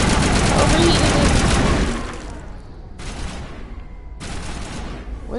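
Sustained rapid machine-gun fire in a video game hammers loudly for about two seconds, then gives way to quieter, intermittent bursts with gaps between them.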